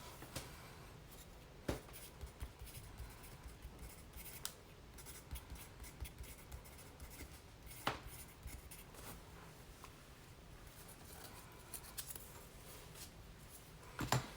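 Pencil scratching across paper while a fountain pen ink inventory spread is filled in, a quiet, steady run of short strokes with occasional sharper taps and rustles, close up and with no voices.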